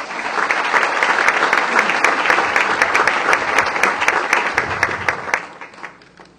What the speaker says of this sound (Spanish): el aplauso de todo el público